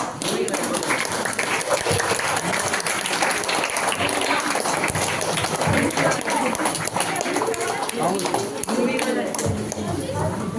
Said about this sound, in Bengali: হাততালি, হাততালি, জোরে হাততালি